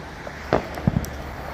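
Fireworks bursting at an Independence Day show, a few distant booms and pops scattered over a quiet night background with faint crowd murmur.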